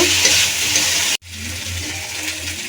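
Cauliflower curry is stirred in a hot pan, a steady sizzling hiss with soft scraping that cuts out abruptly for a moment before resuming, loud and close, with no voices.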